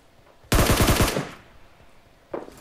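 A short, loud burst of rapid automatic gunfire in PUBG Mobile while the player runs and aims, dying away into a faint tail, followed by a single fainter shot.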